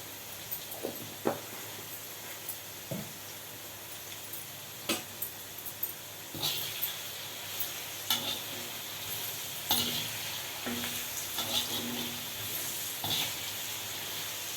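Bitter gourd pieces frying with salt in a pan, a low, quiet sizzle with scattered sharp clicks and scrapes of stirring spaced several seconds apart, close by, no talking.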